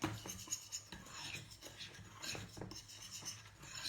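Quiet scraping and clinking of a utensil stirring a bicarbonate of soda paint mixture in a dish, a steady run of small scrapes and taps with no talking.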